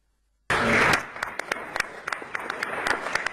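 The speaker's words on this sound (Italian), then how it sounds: "Un applauso liberatorio" Applause at an International Olympic Committee session in Buenos Aires, bursting in suddenly and continuing as dense, loud clapping from a large crowd with sharp individual claps standing out.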